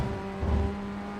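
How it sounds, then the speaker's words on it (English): A Formula Ford FF1600 race car's engine held high and revving out in the iRacing sim at Motorsport Arena Oschersleben, a steady loud drone with a slight rise in the middle. "So I just rev it out"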